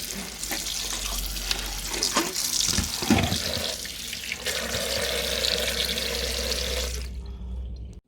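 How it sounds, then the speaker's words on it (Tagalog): Cold tap water runs steadily over freshly boiled eggs in a kitchen sink, a continuous close splashing wash with brief clattering knocks midway, stopping abruptly near the end. "rinse natin sa cold water yung ating boiled egg"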